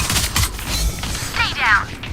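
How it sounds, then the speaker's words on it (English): A firearm being reloaded in a video game gives a quick run of mechanical clicks, ratcheting and metallic clacks, fairly close and loud over a busy background. "Reloading. Reloading."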